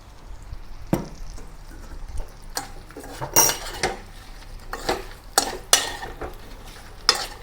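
Shrimp stir-fried with garlic and ground white pepper in a pan: a utensil scrapes and clanks against the metal in irregular bursts over a faint sizzle, close and fairly loud, with no talking.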